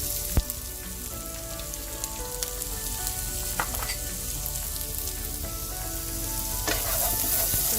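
Broccoli and onions frying in a little oil in a hot wok, a continuous crackling sizzle with scattered sharp pops and clinks from stirring, steady and close throughout.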